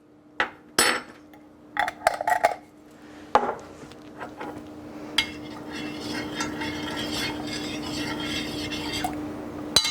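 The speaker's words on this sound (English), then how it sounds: "Get all that nicely stirred together" Greek chicken marinade with minced garlic being stirred together in a bowl, with a few sharp utensil knocks and clinks early on. A softer, continuous stirring and scraping follows, close up, over a steady faint hum.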